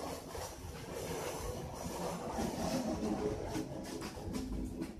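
Inside the Denuwara Menike passenger train in Sri Lanka, the carriage rumbles and rattles steadily, with soft wheel clicks and faint squeals over continuous running noise.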